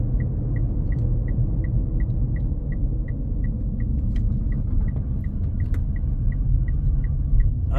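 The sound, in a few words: rattling noise in a Mitsubishi PHEV car while driving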